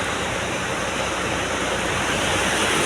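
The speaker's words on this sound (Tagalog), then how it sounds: "Biglang buhos. Lakas ng hangin." A dense, unbroken roar of heavy rain pours down at a rice mill, with gusting wind blended into the constant wash of noise.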